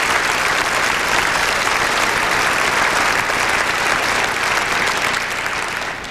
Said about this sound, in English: let's have a nice round of applause, please, for these members of the championship team